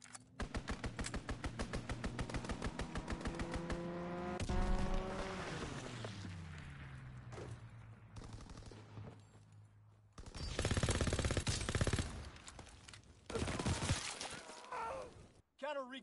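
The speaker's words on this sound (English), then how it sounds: "Fighter aircraft ready. Call for a strafing run." Rapid aircraft gunfire from a strafing run in a PS4 war video game, heard as loud bursts of rattling shots and crashing impacts with an engine drone, mixed with game voice callouts.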